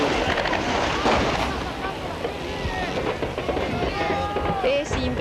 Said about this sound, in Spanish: Es impresionante la cantidad de disparos que se están efectuando en este momento.